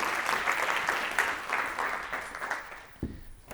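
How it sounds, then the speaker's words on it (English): Applause from a conference audience at a consumer engagement event, a dense steady patter of many hands clapping that thins and fades out near the end. "Big round of applause."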